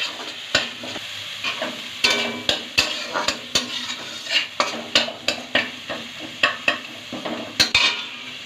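Okra frying in a pan with turmeric, salt, chili powder and sugar, stirred with a utensil that scrapes and taps the pan in a steady rhythm over a soft continuous sizzle, close and clear.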